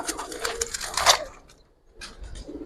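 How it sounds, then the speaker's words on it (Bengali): A silver Giribaz male pigeon cooing near at hand, with rapid rustling, fluttering bursts at the start, then a pause and a softer second burst. "দেখেন অনেক সুন্দর একটা কবুতর, সিলভার একটা নর"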